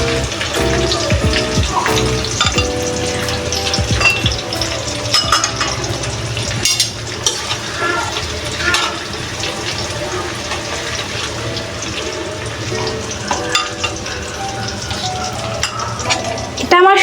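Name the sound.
garlic frying in a pan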